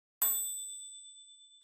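A single bright bell ding rings out clearly and decays slowly over a second in silence, with another ding just starting at the end.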